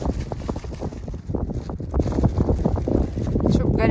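Wind buffets the microphone outdoors on a seaside day on the Montenegro coast, a steady low rumble under people talking close by, growing a little stronger toward the end.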